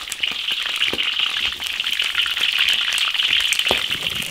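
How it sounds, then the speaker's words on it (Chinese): Pork ribs pan-frying in oil over low heat in an iron wok, a continuous close hiss of sizzling with scattered small pops and spatters, no voices. "烧油，再把排骨煎一下"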